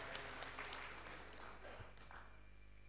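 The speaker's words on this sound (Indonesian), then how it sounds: "Tepuk tangan dulu untuk teman-teman semua" An audience applauds at the KIP Award 2023 ceremony: a steady, faint wash of clapping heard from a distance, with no single claps standing out.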